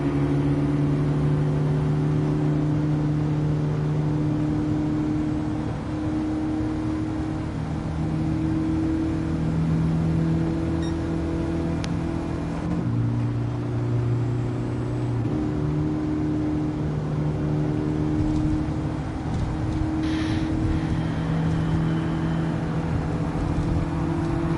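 A Mazda's engine hums steadily in Gran Turismo 7, driven with a manual transmission, and holds a continuous drone with small shifts in pitch.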